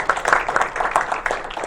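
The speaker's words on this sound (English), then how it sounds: "I wanted to give them a round of applause for our new providers for this year." A small group at a youth council meeting claps briefly, a quick patter of hand claps close by.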